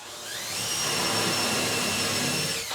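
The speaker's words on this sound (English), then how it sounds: "I'm going to drill the hole first with this" A power drill boring a hole in a wooden mirror frame whirs steadily at high speed for a couple of seconds, spinning up and winding down, close and loud with no talking.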